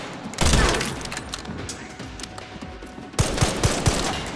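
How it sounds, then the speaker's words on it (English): Gunfire in the video game Resident Evil 9, loud bursts of rapid automatic shots in two clusters with a lull between them, filling the sound without any talk. "Who's shooting?"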